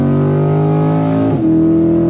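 A 2023 Chevrolet Corvette C8 Stingray accelerates in first gear, its engine drone loud and close with steady harmonic tones that climb, then dip sharply as it shifts and settles into a new steady pull.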